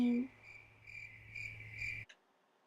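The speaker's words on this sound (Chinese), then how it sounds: "那是蟋蟀的声音。" Crickets chirp in short, regular high-pitched pulses at a steady rhythm for about two seconds before stopping abruptly, heard faintly after a brief low tone at the start.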